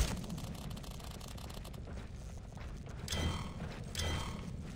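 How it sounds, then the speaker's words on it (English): Heavy gate mechanism grinding open in the video game Vanquish, a low mechanical rumble with two louder creaking surges near the end, no talking over it. "The gate's open now."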